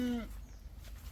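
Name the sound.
goat bleating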